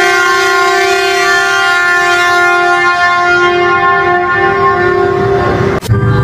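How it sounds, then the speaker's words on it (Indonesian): A loud, sustained horn-like train tone holds steady for several seconds and ends with a sharp click. "Ini ada kereta api."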